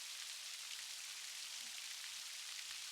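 Steady rainforest rain patters and hisses in a dense, even wash of drops, constant throughout with no voices and no breaks.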